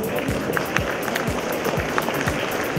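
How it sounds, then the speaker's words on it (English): An audience at an urban forum applauds the panelists, a steady patter of many hands clapping at moderate volume, somewhat distant, with no voices over it. "So let us all thank the panelists with us by a round of applause."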